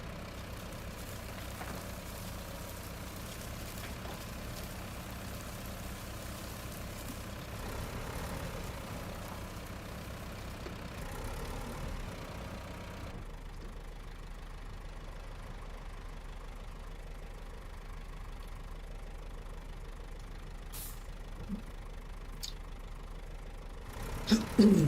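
Idling truck engine in the video game Road Craft, a steady low rumble that runs throughout, with the tone shifting partway as the mix drops out, ending in a few brief clunks.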